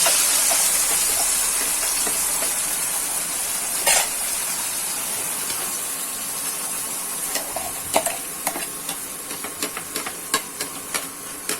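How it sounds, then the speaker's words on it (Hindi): Masala fried with onion paste in a pan sizzles in a loud, continuous hiss, with sharp pops and spatters crackling through it that grow more frequent toward the end, heard close with no talking. "अब हम इसे भूनेंगे। इसकी छींटे ऊपर आ रही हैं"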